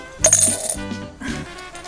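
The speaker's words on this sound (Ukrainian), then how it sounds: "Подаємо одну, другу. Третя монета переходить найшвидше." Coins drop one after another into a glass during a stage magic trick on a youth TV show, giving three bright metallic clinks about half a second apart, close and clear.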